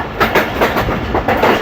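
A train in Pakistan rolls along near an overhead railway bridge, its wheels giving a loud, close, rhythmic clickety-clack over the rail joints in a steady repeating pattern.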